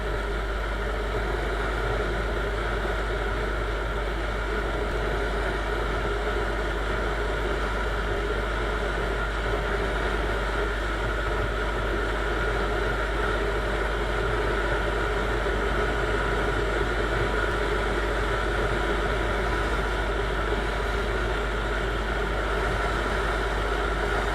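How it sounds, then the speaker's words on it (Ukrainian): Viper 200 motorcycle engine, tuned, running steadily and accelerating through fourth into fifth gear, a continuous loud mid-pitched drone that stays fairly even throughout. "Газпол, даю газпол. Четверта передача. Вмикаю п'яту."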